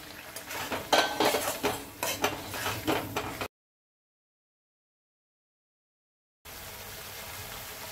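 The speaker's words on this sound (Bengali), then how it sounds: "ডিমগুলো দিয়ে দেব, ডিমগুলো দিয়ে আর একটুখানি কষবো" Eggs sautéed in korma masala in a pan bring a few seconds of close stirring, scraping and clinking over a soft sizzle, then a sudden gap of silence before a quieter sizzle returns.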